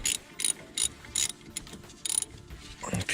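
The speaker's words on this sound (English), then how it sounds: "I'm going to take the ratchet, tighten that back up" Ratchet wrench clicking while tightening a brake caliper bolt on a 2010 Ford Focus during a brake pad replacement, several short close bursts of rapid ratcheting separated by brief pauses.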